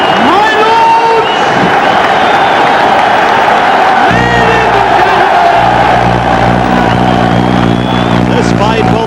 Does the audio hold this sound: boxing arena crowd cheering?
yes